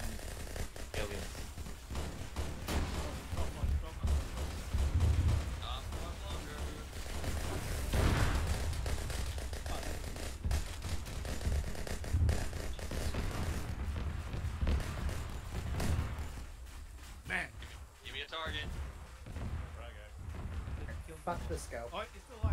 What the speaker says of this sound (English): Shooting towards gunfire